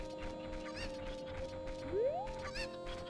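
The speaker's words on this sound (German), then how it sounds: "Auch vorher sammeln wir hier noch ein paar Hühner ein." Chickens cluck in the N64 game The Legend of Zelda: Ocarina of Time, a few short clucks over a steady in-game music bed, with a rising squawk near the middle.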